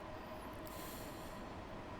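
A Bakerloo line 1972 tube stock train runs on the London Underground between Harrow, Queens Park and Stonebridge Park depot in Train Sim World 2, with a steady, continuous rumble of wheels on track and a faint high squeal, no talk.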